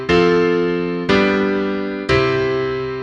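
Three sustained chords struck about a second apart, each ringing out and slowly fading, forming a simple tonic-subdominant-dominant progression played alone on a bright keyboard-like instrument.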